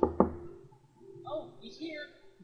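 Two quick knocks on a door at the start of a scene in the game Facade, followed by game characters talking.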